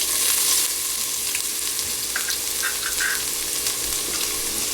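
Ginger garlic paste frying with coriander seeds and whole spices in hot oil for a goat curry, a steady close sizzle with soft crackles and a few faint stirring clinks, no talking.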